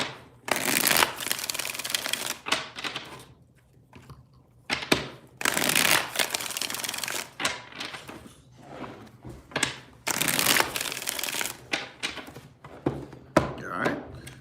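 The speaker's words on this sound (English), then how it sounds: "3 shuffles here, 3 more." Tarot cards are shuffled repeatedly by hand in a series of loud, close riffling bursts, separated by short pauses and soft taps as the deck is squared.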